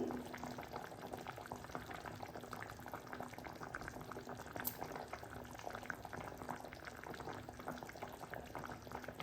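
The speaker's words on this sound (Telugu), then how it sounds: "చూడండి ఎలా ఉడుకుతుందో చేపల పులుసు" Fish curry in a pot simmering over a low flame in a home kitchen, giving a steady, faint bubbling that carries on without a break.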